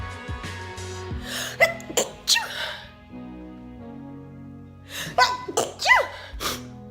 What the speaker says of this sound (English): before that sneezing episode